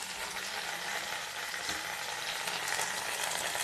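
Tomatoes and turmeric sauté in a pan for a mutton leg curry, heard as a soft, continuous hiss of frying with little variation, fairly quiet and close.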